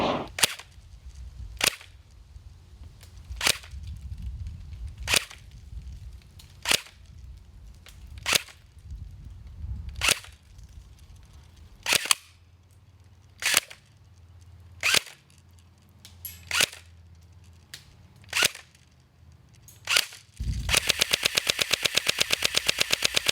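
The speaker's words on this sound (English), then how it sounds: "Now I'm going to be shooting Jackson at 75 feet" Airsoft shots from a Double Eagle Mini Shot gun fired at a target 75 feet away: about fourteen sharp, evenly spaced cracks roughly every one and a half seconds, ending in a rapid burst of clicks.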